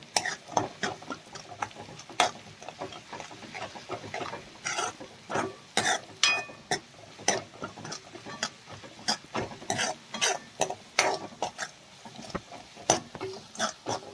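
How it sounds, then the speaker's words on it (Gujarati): Chopped onion, garlic and green chillies sauté in oil for dal tadka, with steady sizzling and frequent clicking stirring strokes of a spoon against the pan, close and continuous, no talking. "લીલા મરચાં જે ઝીણી કટકી કર્યા હતા તે એડ કરીશું કે લસણનો ટેસ્ટ કાચો ના રહે ત્યાં સુધી આપણે સરસ શેકી લઈએ"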